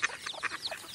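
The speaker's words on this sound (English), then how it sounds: "Female duck. Drake. Male duck." A duck quacking in a quick series of short, nasal calls, close and fairly faint, with no other sounds around it.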